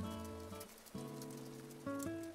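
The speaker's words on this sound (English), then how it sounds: "I love that the sound changes to rain hitting a tin roof." In the video game Animal Crossing, rain patters on a tin roof as a soft, steady wash beneath gentle tonal game music that shifts notes a few times.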